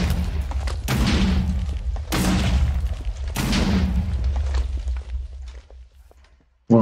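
Three heavy booming gunshots from a mega pistol in a modded Minecraft survival game, each a sharp loud blast with a long rumbling tail, spaced about a second apart, then fading to near silence before a final abrupt hit.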